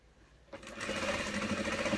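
A sewing machine starts up after a quiet moment and runs steadily in a reverse backstitch on a child's item strap, a close, continuous mechanical whir with no talking.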